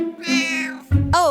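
A kitten meows loudly and close, a long drawn-out cry followed by a shorter, rising second meow after a brief break, with no speech over it.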